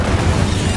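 Incendio fire spell cast in Hogwarts Legacy, a short dense fiery burst with a low rumbling boom that fills the whole moment, loud and close.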